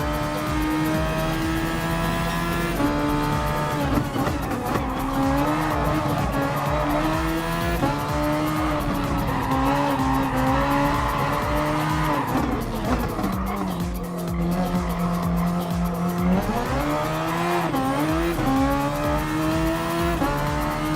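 Super Formula race car in Gran Turismo Sport at Autopolis, a loud continuous high-revving engine whine that rises and falls through gear changes, with tire squeal and a commentator's voice underneath.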